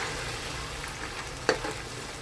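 Four chopped medium tomatoes fry in a pan with masoor keema, giving a steady close sizzle throughout, with one brief sharp clink of a stirring utensil partway through.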